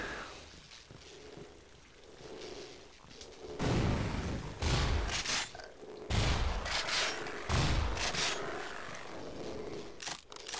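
Gunfire in the virtual reality shooter Half-Life VR inside an office complex, a run of loud booming shots in irregular bursts over several seconds, close and punchy against a quieter background.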